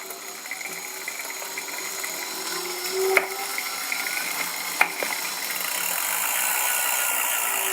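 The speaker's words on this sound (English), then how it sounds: "Motor's off and the wheel is freewheeling to a stop." A motor drives a wheel on a Long Ranger machine with a steady mechanical whir and faint ratcheting, two sharp clicks break through midway, then the hum carries on alone as the wheel spins without speech.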